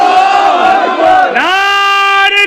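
A crowd at a religious gathering shouts a slogan together in one loud, sustained, unified cry that swells and holds, following an indistinct mix of voices.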